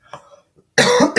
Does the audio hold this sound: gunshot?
no